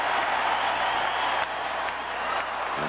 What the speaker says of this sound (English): Now the Fenway crowd gets into it.